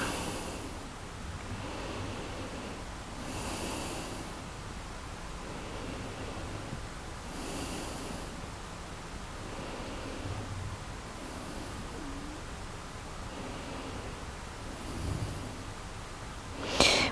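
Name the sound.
deep inhaling and exhaling during yoga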